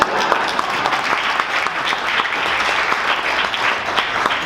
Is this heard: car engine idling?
no